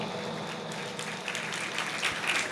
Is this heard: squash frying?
no